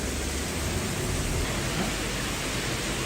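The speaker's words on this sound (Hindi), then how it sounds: "ये थोड़ा मोड़ा नहीं, बहुत भयंकर बारिश हो रहा है।" Heavy rain pours down outside in Brahmapur, a dense, steady hiss of downpour that fills the whole clip with no break and no voices over it.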